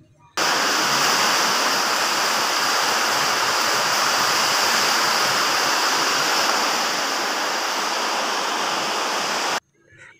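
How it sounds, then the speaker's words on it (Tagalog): Water pours continuously from a leaking roof gutter joint at a house, making a steady loud splashing hiss for about nine seconds before stopping abruptly. "Ayun, pati pala yung gutter ay may tulo."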